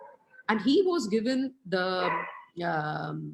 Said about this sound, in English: I think that's our dog really barking outside.